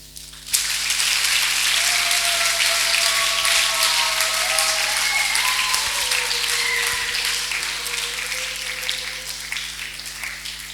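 A church congregation breaks into loud sustained applause, dense crackling clapping that swells quickly and holds for several seconds, with a few faint voices and tones mixed in.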